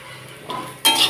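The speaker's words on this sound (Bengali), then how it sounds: "এইভাবেই প্রায় দশ থেকে এগারো মিনিটের মতন ভাজা করতে হবে কচুটাকে" Taro pieces fry in a pan while a spatula stirs them, a short soft sizzle followed by a sharp close clink of metal against the pan.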